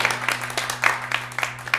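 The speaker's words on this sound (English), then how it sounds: "Give a round of applause." Audience applause at an open mic night in a cafe: a quiet, brief patter of clapping from a small crowd under a steady low electrical hum.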